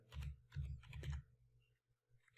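A command is typed on a computer keyboard. Three quiet bursts of key clicks come close together, then stop.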